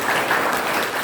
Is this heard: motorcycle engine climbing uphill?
no